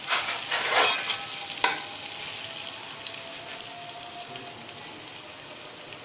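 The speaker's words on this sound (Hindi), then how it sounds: "ये हमारा लहसुन भी फ्राई हो गया।" Garlic sizzles steadily in a hot pan while being stirred for a spicy homemade chickpea dish, a close, continuous crackling hiss with a brief louder burst of stirring near the start.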